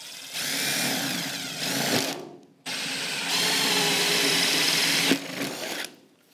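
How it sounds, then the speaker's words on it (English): A power drill whines steadily as it bores a pilot hole through scrap metal, running in two long bursts separated by a short pause. "What we're going to do is we're going to drill our little hole."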